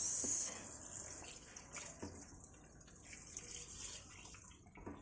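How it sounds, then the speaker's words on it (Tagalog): Lasagna noodles rinsed under a running kitchen tap, a soft steady wash of water splashing throughout, fairly quiet with a brief louder gush at the start. "So, hugasan lang natin siya"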